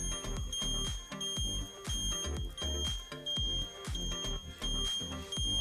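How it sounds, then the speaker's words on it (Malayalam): An indicator buzzer newly fitted to a BS6 scooter beeps in a steady repeating rhythm of electronic tones, close and loud, with no talking. "ഇൻഡിക്കേറ്റർ സൗണ്ട് നമ്മൾ സെറ്റ് ചെയ്തിട്ടുണ്ട്."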